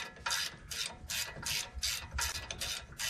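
A wrench ratchets steadily to undo an over-tightened front brake caliper bolt on a 2006 Dodge Ram 1500, giving about ten close, regular rasping clicks with no talking.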